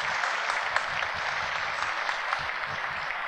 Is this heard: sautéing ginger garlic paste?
no